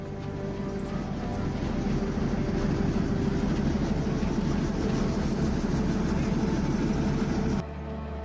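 Gwalior's narrow gauge light railway train running: a loud, steady rumble with a fast rhythmic clatter of wheels and carriages, heard close up with no talk, cutting off abruptly near the end.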